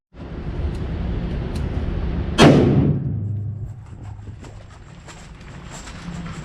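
A single loud rifle shot cracks out at an outdoor rifle class, with a sharp report and a rolling echo that fades over a second, set against rumbling wind noise and a few faint clicks.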